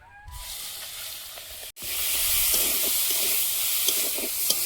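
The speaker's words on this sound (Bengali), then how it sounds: "ছোট চিংড়িগুলো ভেজে নেব।" Small shrimps fry in hot oil in a pan, a loud, steady hiss and sizzle that cuts out for an instant and then resumes fuller, with a few faint clicks and crackles.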